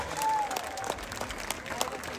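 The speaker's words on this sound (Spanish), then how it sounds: "Fuerte el aplauso y que se escuche hasta el cielo." A crowd claps at a night-time festival concert for the Feria de la Candelaria in Apaxtla de Castrejón, Guerrero, Mexico. The applause is a faint, continuous patter with a brief whistle and some voices mixed in.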